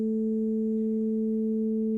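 Two steady electronic sine test tones, one at 220 Hz and one an octave above at 440 Hz, sound together as a single continuous, even hum with no variation.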